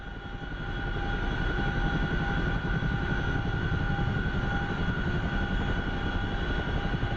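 A CH-47 Chinook twin-rotor helicopter in the DCS flight simulator gives off a loud, steady drone of engine and rotor noise, rising over the first second and then holding constant with a low pulsing thump underneath, with no voices.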